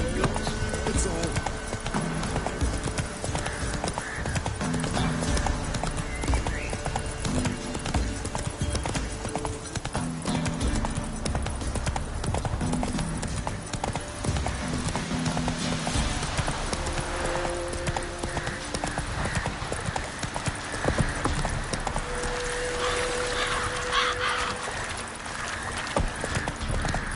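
Steady clip-clop of the horse Roach's hooves in the video game The Witcher 3: Wild Hunt, continuous and rhythmic throughout, with game music and occasional voices layered underneath.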